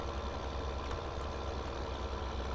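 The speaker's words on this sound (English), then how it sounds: "deep rumbly engine sound" An old school truck idles in Farming Simulator 2013, its deep rumbly engine holding a steady low drone, fairly close and unbroken, with no talk over it.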